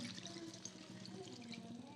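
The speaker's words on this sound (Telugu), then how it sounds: "దీంట్లో వాటర్ని యాడ్ చేస్తున్నానండి." Water poured into a tamarind curry mixture for bitter gourd pulusu, a soft, steady trickle and splash lasting about two seconds, faint and close, with no talking.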